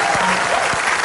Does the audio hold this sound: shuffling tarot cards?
no